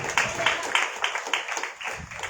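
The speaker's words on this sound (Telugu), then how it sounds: "అందరూ చప్పట్లు కొట్టండి" Church congregation clapping hands in rhythm during a sermon, a run of quick, moderately loud claps in steady pulses, fairly close and with no voices over it.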